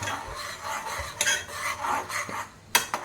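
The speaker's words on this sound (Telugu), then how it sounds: "స్పూన్ ఇవ్వు. బాగా కలబెట్టుకోవాలి." A spoon stirs a pot of spiced tea with cloves, giving scraping swirls and a few sharp metallic clinks against the vessel, close and moderately quiet, with no talking.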